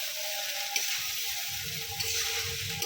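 Flattened rice pulao is tossed and turned in a hot pan with tongs: a steady close sizzle with a few faint metallic clicks from the tongs.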